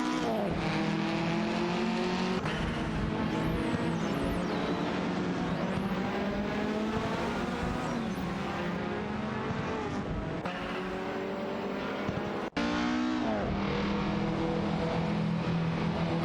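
Race cars in an AI-driven racing video game, engines droning and revving steadily throughout with shifting pitch, one brief cut near the end, no voices.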